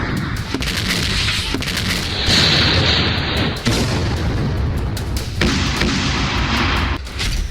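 Artillery shelling and explosions in the Ukraine war in the Donbas region, a dense, continuous roar of booms and blasts with sharp impacts and rumbling bursts, loud and sustained throughout.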